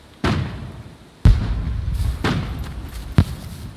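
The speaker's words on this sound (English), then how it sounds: "Fireworks are going off." Booming bursts of fireworks in the online survival game SCUM, four separate blasts over a few seconds, each a loud thud followed by a crackling, hissing tail, with no talking.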